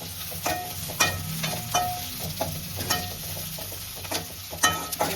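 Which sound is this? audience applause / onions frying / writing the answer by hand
onions frying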